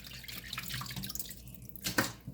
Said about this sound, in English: I'm going to put them right back in the water.